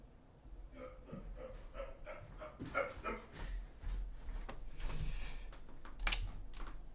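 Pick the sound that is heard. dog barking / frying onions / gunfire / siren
dog barking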